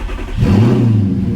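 An Audi R8 engine cranks and fires at about half a second, then holds a loud, steady rev with a strong low rumble through the rest of the short clip. No one speaks over it.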